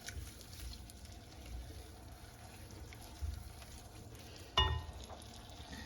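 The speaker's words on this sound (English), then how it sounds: "I'm just gonna go ahead with the sugar and just mix it all in there again" Sugar is stirred into malva pudding batter in a bowl, a faint, soft, wet swishing with a couple of louder knocks from the utensil. No one speaks.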